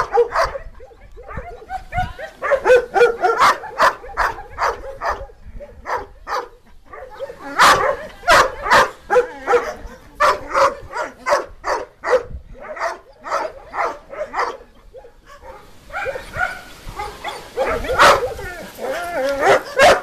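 A puppy barks in repeated sharp yips and short bursts, with occasional whimpers. Its bursts come in uneven clusters, close and fairly loud, while a person talks to it affectionately in between.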